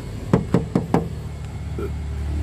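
Knuckles rap four times in quick succession on the thin metal body panel of a 1993 Suzuki Vitara JLX 4x4, giving loud, close, hollow knocks followed by a quieter background.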